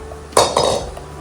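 A cooking pot is lifted and handled while making spicy mango pickle, giving a sharp metallic clank followed by a second knock and a brief scraping rattle, close and alone with no talk.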